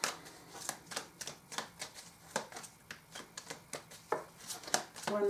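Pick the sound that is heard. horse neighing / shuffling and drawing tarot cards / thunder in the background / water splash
shuffling and drawing tarot cards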